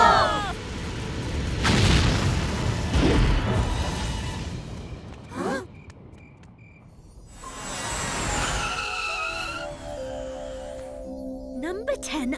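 A cartoon rocket blasts off with a loud rumbling roar and whooshing sweeps, followed by bright jingling and tinkling effects, all over a backing of music with children's cartoon voices.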